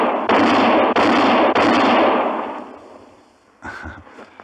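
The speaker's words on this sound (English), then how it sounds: "that's mighty fine shooting, Mr. Kendall." Gunfire in a 1958 radio western drama: three rapid loud shots cracking in quick succession, their echoes fading over a couple of seconds, then a quieter stir of sound afterward.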